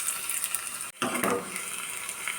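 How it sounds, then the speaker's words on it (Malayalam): Chopped red shallots hitting hot coconut oil for a sardine curry, a steady bright sizzle and hiss with a sharp crackling burst as they go in, then continuing to fry close up. "വെളിച്ചെണ്ണ ചൂടാകുമ്പോൾ അതിലേക്ക് അരിഞ്ഞു വെച്ച ചുവന്നുള്ളി"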